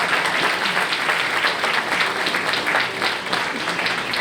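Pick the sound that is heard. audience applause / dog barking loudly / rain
audience applause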